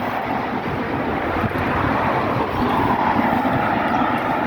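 A light rail train rolls past nearby with a steady, loud rumble and hiss that holds for several seconds. No one speaks.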